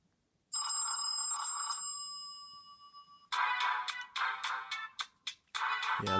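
Music playing through the small built-in speaker of a cheap Timmy M12 smartphone, thin and tinny with bright ringing tones and then choppy bursts of melody, fairly loud and close with no talking.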